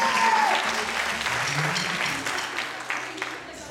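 An audience claps for the winner of a contest in a steady burst of applause that fades slightly toward the end, with a brief whistle at the start and some voices mixed in.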